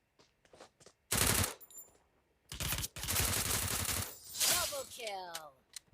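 Gunfire rings out in the Free Fire battle royale mobile game: a few faint distant shots, then loud close bursts of automatic fire separated by short pauses, with sharp ringing tails.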